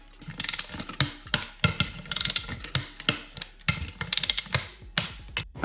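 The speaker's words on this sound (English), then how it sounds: "We're just gonna go ahead and torque them to 20, just like I said." A torque wrench tightens the bolts on a double beadlock wheel. It gives repeated sharp ratcheting clicks in quick bursts, close and fairly loud, with brief pauses between the strokes and no talk.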